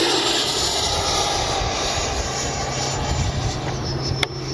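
An FMS 80mm F-86 radio-controlled jet flying at a morning RC flying session, its electric ducted fan a loud, continuous whooshing roar held steady throughout, with a brief sharp click near the end.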